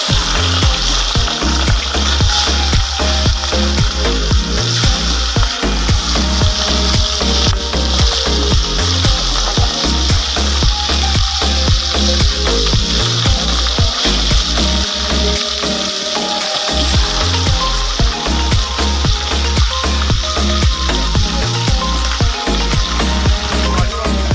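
Small hilsa fish frying in hot oil in a Bengali village kitchen, a loud, dense sizzle and crackle that continues without a break, close to the pan.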